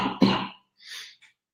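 Two short bursts, a sharp cough followed by a fainter one, from a person during a live online class, close and alone with no talk around it.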